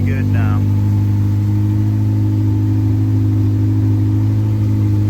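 A Honda K24 engine running on a Fuel Tech system idles steadily and loudly up close, a constant low hum with even tone, a voice briefly heard at the start.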